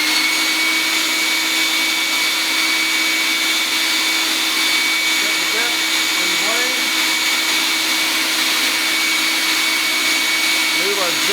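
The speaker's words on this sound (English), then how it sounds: "we'll go ahead and turn on the world's noisiest vacuum cleaner" A very loud vacuum cleaner drones steadily in a woodworking shop, a dense unbroken roar with a high whine running through it for the whole stretch. Faint chirps and knocks come and go underneath.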